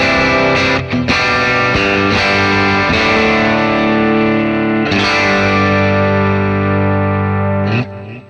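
Electric guitar played through a Dr. Z Z-80 amp and Z cab: loud, driven chords ring out and sustain, struck again every second or so, alone with no talk.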